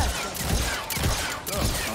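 Rapid blaster shots fired at a training dummy in the Star Wars Jedi Survivor video game, dense bursts of sharp zapping fire in quick succession, loud and close, with no talking.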